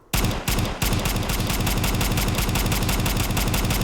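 MP5 submachine gun firing in the video game Fallout 4: a loud, rapid, steady automatic burst of close shots with a brief break near the start, continuing without talk.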